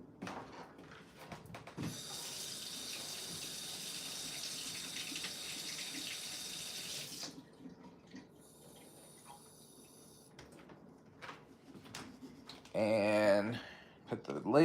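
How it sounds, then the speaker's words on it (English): A spray bottle being filled from a running tap: several seconds of steady hissing water stream, then quieter handling with a voice talking, and a short louder splash near the end. "I'm just gonna fill this up with water."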